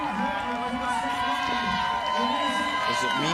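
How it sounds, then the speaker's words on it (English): At the CrossFit Games, a crowd roars and cheers for a finishing athlete, a dense sustained wall of cheering with shouts mixed in while an announcer talks over it. "keep that applause coming"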